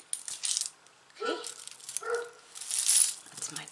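A dog barks twice in a room, short sharp woofs fairly near, with jingling and rattling handling noises around them.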